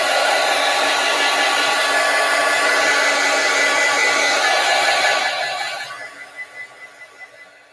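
A hair dryer blows steadily and loudly over mail art pieces for about five seconds, then switches off and winds down, leaving a few faint fading pulses.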